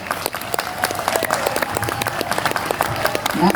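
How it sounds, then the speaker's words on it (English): An audience gives Craig McManus a lively round of applause at a Common Law Association community gathering in Gympie, with dense clapping throughout and a few voices rising near the end. "So big round of applause for Craig."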